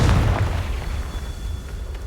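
A Confringo blasting spell explodes in Hogwarts Legacy, a loud, close, low booming burst at the very start that decays into a rumbling tail.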